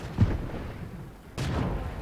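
Tank cannon shots from a Churchill III in an online tank battle game: two heavy booming blasts about a second apart, the second sharper and louder, each followed by a rumbling tail.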